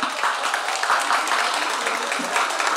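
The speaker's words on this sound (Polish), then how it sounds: "Wielkie brawa." Audience applause at an outdoor harvest festival, a steady, fairly loud wash of many hands clapping without pause.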